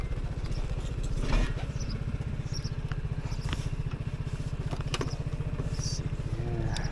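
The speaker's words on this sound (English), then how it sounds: "Bike is rumbling a little bit here up on its center stand." A Vespa GTS 300 Super Sport scooter idling on its center stand, its single-cylinder engine thrumming in a fast, even, low putter, quiet and close, with faint clicks and background noise over it.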